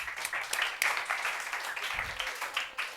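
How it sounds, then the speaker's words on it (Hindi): A classroom of students claps loudly for themselves, a dense, steady burst of many hands with no break, near and lively throughout. "खुद के लिए ताली बजा दो बेटा जोरों से."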